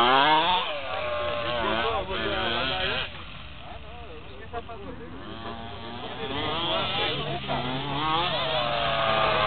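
A nitro RC car engine revving outdoors, its high buzzing whine rising and falling in repeated bursts, close and fairly loud, with people talking throughout.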